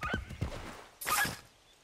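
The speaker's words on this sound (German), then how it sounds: "Ach, mein Pferd kann man so wunderbar jagen" A horse in Assassin's Creed III gives a short neigh followed by a second whinny, close and fairly quiet, with faint hoof clip-clop, no talk.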